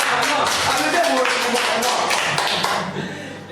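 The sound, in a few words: audience applause on radio show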